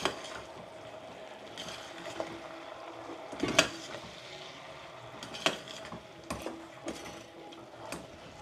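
Scraping and clinking of a spoon stirring red chilli and coriander-cumin powder in a pan, with a low sizzle underneath and several sharp metallic taps.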